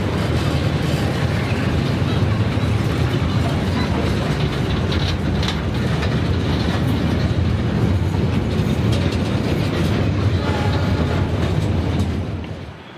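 Steady rumble from inside a passenger train bound for Surabaya, with continuous clickety-clack of wheels on rail joints and mechanical rattling at constant loudness, fading slightly at the very end.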